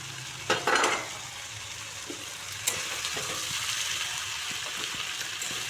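Giant freshwater prawns go into a pan of radish already frying, with a sharp clattering splash followed by steady sizzling and an occasional stir.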